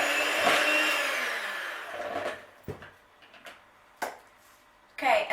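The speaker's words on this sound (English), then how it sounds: "we're going to start by mixing first the butter" Butter being mixed for gluten-free cookies, a loud whirring mixer drone for the first two seconds that tapers off, followed by a few sharp knocks and clatters of utensils against a bowl.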